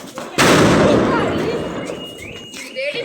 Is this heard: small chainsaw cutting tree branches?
no